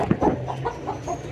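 A chicken clucks close by in a short series of soft, rhythmic clucks, about five over a second, against a low background hum.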